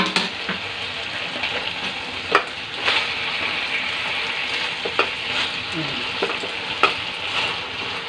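Chicken inasal fries in a frying pan, a dense close sizzle of hot oil that runs steadily, broken by a few sharp spatters and utensil knocks.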